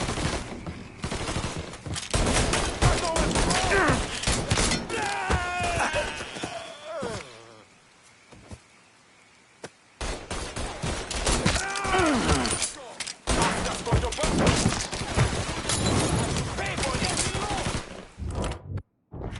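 Rapid gunfire bursts and shots in the crime action game Mafia 3, loud and dense through most of the stretch, dropping out briefly in the middle before resuming, with shouting voices mixed in.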